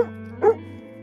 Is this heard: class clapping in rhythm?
no